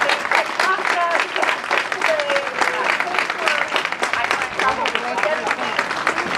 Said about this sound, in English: we can give you a great big round of applause